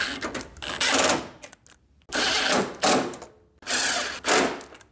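A power tool tightens the headlight bolts on a Chevy OBS truck in bursts, three main runs of buzzing, rattling motor noise, close and loud, separated by short quiet gaps.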